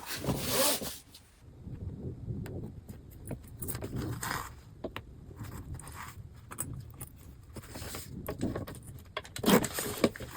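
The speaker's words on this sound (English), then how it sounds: "we're going to smooth and press this out, and then we're going to attach our zipper pull" A zipper and its pull are handled on a laptop bag's fabric lining during sewing, giving repeated short scratchy zips and rustles with light metallic jingles, close and moderately loud, with no talk.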